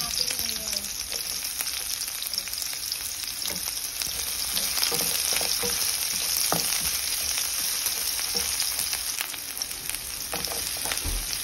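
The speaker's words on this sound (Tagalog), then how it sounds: "Magigisa na po ako. So maglagay ako ng cooking oil. Unahin natin yung bawang." Garlic and onion sauté in hot cooking oil as the base for tinolang manok chicken soup, a continuous crackling sizzle with occasional stirring clicks, close and steady.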